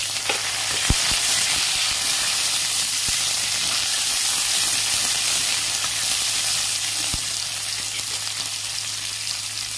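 Chopped onions frying in a pot of hot oil with dry chili and five-spice seeds, for a pumpkin and fish curry; a steady close sizzle with a few sharp crackles, no talking.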